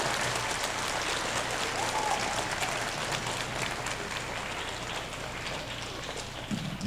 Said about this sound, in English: get a big round of applause if you love the Saints